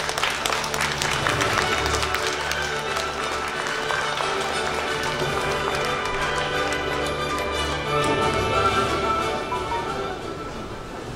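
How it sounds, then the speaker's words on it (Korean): Audience applause fills a hall at a televised year-end adult-contemporary music awards ceremony. Dense, steady clapping runs throughout, with crowd noise mixed underneath. "네, 여러분 박수로 모시겠습니다."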